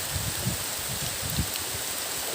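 Heavy rain falling at river rapids during a fishing trip, a constant dense hiss of rain and rushing water with soft low thumps of drops striking nearby, close and even throughout.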